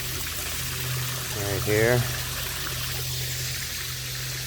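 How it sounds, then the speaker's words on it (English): Water from a pond runs out into a creek about five feet below, giving a steady broadband rush that continues throughout, with a person briefly speaking over it in the middle. "I do have quite a bit of water running out of the pond right now"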